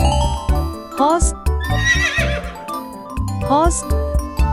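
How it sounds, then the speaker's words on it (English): Horse whinnies rise and fall twice around a longer neigh, heard up close with faint farmyard clatter beneath and no speech. "Horse."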